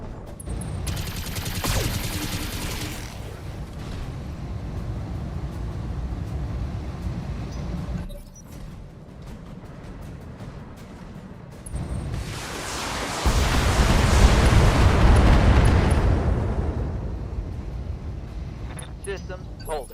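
Heavy mech weapons fire and missile volleys in the BattleTech game, loud sustained barrages with a big rumbling burst building midway, and voices talking throughout.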